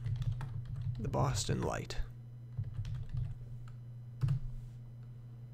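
Computer keyboard typing while entering a photo caption, a short burst of light clicking keystrokes near the start, then a few scattered taps, with a voice speaking briefly over the keys.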